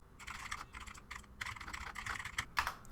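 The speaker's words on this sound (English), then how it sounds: "I'm going to type." Quiet, rapid clicking of keys on a computer keyboard, close and continuous with brief pauses between bursts of typing.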